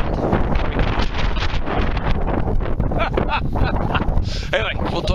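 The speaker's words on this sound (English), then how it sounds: "as you can tell, the wind's already started blowing" Strong wind buffets a microphone outdoors on an open metal-detecting outing in Utah, a steady loud rumbling roar that fills the whole clip with gusty surges, and a voice seems to speak faintly beneath it.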